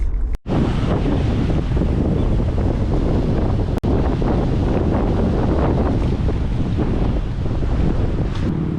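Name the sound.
strong wind on microphone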